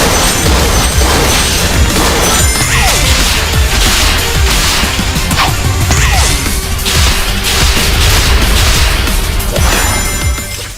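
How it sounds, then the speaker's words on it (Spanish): Loud, dense bursts of explosions, whooshes and sharp impacts pile up continuously, chaotic combat effects from a Sonic fangame, with no voices. "Las explosiones, los golpes e impactos suenan impresionantes"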